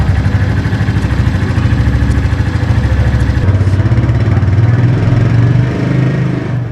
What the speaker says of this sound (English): 349cc counterbalance engine is super smooth, claimed by Royal Enfield